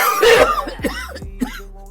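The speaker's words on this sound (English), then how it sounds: "coughing and choking on the weed smoke." A person coughs several times in rough, harsh bursts, choking on cannabis smoke, sounding strained, close and fairly loud.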